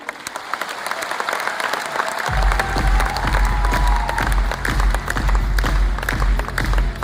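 Audience applause at a Forever Living Products event in India, loud sustained clapping with some cheering, swelling after a couple of seconds and carrying on thickly over a low rumble.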